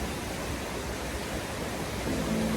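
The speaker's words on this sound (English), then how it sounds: "Look at that waterfall." A waterfall in Switzerland gives a steady, broadband rush of falling water, a constant hiss that stays even and fairly loud throughout, with no talk.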